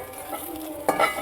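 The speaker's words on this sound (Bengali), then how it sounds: "করলাটাকে আগে ভেজে নিতে হবে" Bitter gourd fries in hot oil for dudh shukto, a low steady sizzle broken by a short scrape of a spatula against the pan near the end, close and moderately loud.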